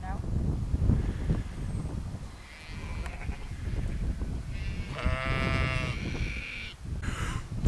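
Sheep bleating in a field on the North York Moors, several drawn-out calls from the flock at moderate distance, with wind and someone talking over them.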